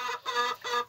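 Chickens, roosters and hens in a small flock, a few brief clucking calls in quick succession, close and fairly quiet, with no talking.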